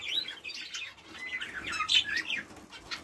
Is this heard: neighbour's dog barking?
no